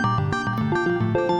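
A Yamaha synthesizer sequenced arpeggio, an outer spacey synthwave patch of rapid, evenly stepping eighth-note tones over a chord, bright and busy, heard alone.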